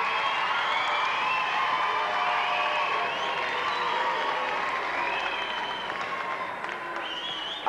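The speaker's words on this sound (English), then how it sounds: "a round of applause, I think, for the North American team" An audience applauds and cheers for the North American BMX team in a lively, sustained wave of clapping with shouts and whistles mixed through, tapering slightly near the end.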